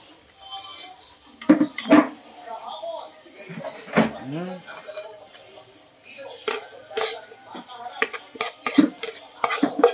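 Food being served onto a plate during home cooking, with dishes and cutlery clinking and scraping in several sharp, close knocks under ongoing talk.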